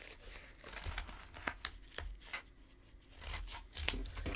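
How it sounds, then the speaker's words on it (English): Scissors snipping around a piece of sticky felt for a crocheted coffee cup magnet, with a run of close, quiet cuts and crinkly rustling of the backing material, no talking. "Then I just take my scissors"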